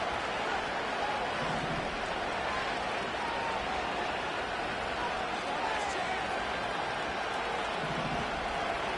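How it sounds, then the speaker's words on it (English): Stadium crowd noise in Madden 25 during a Bills versus Broncos football game, a constant roaring wash of many voices at steady loudness, with faint commentary voices mixed into the din. "And the crowd a major factor now."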